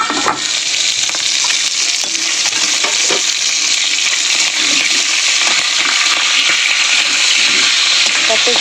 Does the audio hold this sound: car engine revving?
no